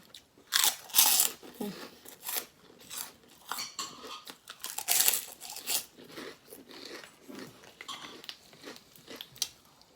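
Crispy pork rinds being bitten and chewed up close, loud sharp crunches in irregular bursts with brief pauses between bites.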